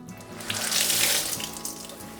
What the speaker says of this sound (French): on va aussi la mouiller avec de l'eau. De l'eau froide. Alors on va vraiment la tremper.